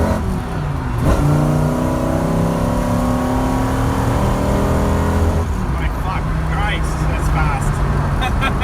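Heard from inside the cabin, a Mercury Capri with a 6.8L V10 accelerates hard. The engine note swells and rises steadily for several seconds before it eases off, with voices talking in the car.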